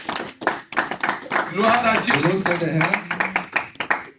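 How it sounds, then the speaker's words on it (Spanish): A church congregation claps for the Lord as a bright burst of hand claps under a singing, praising voice, with the clapping continuing rhythmically alongside the worship speech. "Aplaudimos al Señor."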